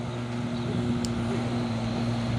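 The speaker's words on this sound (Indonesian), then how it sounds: "Lagi truk coklat muatan buah kelapa sawit." Brown truck loaded with palm oil fruit passing by, a steady droning engine hum with a firm low tone, fairly loud and constant for a few seconds.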